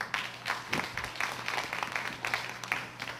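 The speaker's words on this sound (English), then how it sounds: "Give her a round of applause." Audience clapping at a public speaking workshop, a moderate patter of many hands with irregular sharper claps throughout, fairly quiet and unaccompanied by talk.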